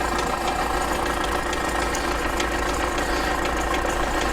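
A wooden longbow arrow spins in a cresting machine, giving a steady, continuous motor hum and whir with faint rattling vibration, close and unbroken throughout.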